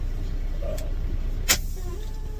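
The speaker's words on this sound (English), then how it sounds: "I'm going to go ahead and just turn this truck off. We don't need to be running wasting diesel fuel." A Western Star 49X diesel truck idles with a steady low rumble, broken by a short whine and a sharp hiss of released air near the middle, with no talk.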